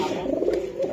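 Red Gorra pigeon, a Pakistani breed with feathered feet, cooing close by in a low, steady murmur with no talk over it.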